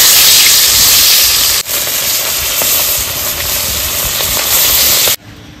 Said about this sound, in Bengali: মাছগুলো ভেজে নেবো, তেল দিয়ে দিচ্ছি।